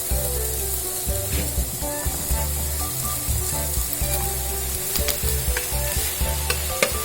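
Pork chop frying with onion in a pan, a dense steady sizzle with scraping and stirring clatter from a utensil, close and loud throughout with no talking.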